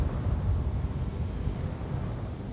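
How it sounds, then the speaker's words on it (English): Spaceship engines firing vertical thrust in The Invincible video game, a steady, loud low-pitched roar with a rumbling, wind-like texture, continuous and without talk. "The engines are functional. There's a vertical thrust."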